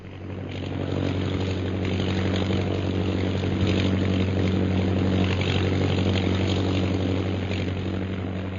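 A propeller airplane engine drones steadily in flight as a radio drama sound effect, a continuous low, even hum with no voices over it.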